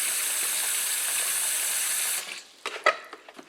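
Warm tap water runs steadily into a sink for washing a whole chicken, a loud even rush that cuts off after about two seconds, followed by a few soft clunks and splashes.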